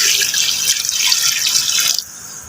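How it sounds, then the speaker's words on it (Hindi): Water pours steadily from a tap into a cooking pot for about two seconds with a loud, splashing rush, then cuts off abruptly, leaving a softer residual trickle. "और यहाँ मैं 1 लीटर पानी ऐड करूँगी।"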